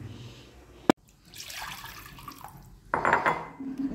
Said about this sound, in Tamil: இப்போ இந்த தண்ணியை மட்டன் வேக வச்ச தண்ணியை நான் இதில் விட